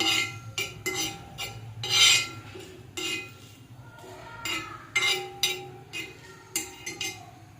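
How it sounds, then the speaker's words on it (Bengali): Whole spices crackle and pop while dry roasting in a hot pan without oil, amid repeated scraping and rasping strokes, fairly close and steady throughout. "পটপট করে আওয়াজটা হচ্ছে, আশা করছি তোমরা শুনতে পাচ্ছ।"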